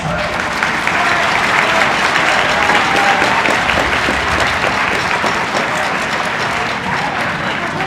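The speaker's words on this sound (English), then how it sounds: "how about again another round of applause," A school assembly crowd gives the veterans another round of applause, a dense, even roar of clapping that holds steady for several seconds, with faint voices underneath.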